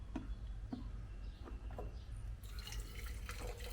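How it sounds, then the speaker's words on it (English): Hot water poured over tea leaves for a Burmese tea leaf salad gives faint drips and trickles, then a fuller, steadier splash of liquid, heard quietly with no talking. "we are going to add hot water, warm water to it."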